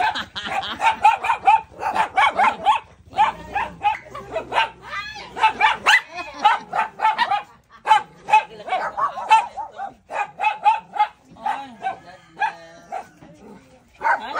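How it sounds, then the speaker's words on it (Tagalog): Several dogs bark and yip in quick, irregular bursts close by, with people talking over and between the barks. "Daming aso eh. Pakita yung mga aso dito."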